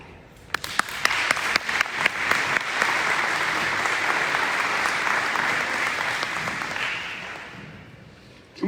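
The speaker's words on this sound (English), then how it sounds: "Can we give all of our partners in the room another round of applause, please?" An audience at a school district breakfast applauds, with scattered claps building quickly into sustained, even clapping from a full room that tapers off at the end.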